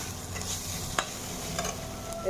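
Onions fry in a pan with salt and turmeric, giving a soft, steady sizzle with a few brief stirring scrapes and clicks, close but quiet.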